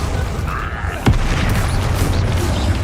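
A spell cast in the Hogwarts Legacy video game, heard as one sharp boom-like burst in the middle over a steady game soundscape.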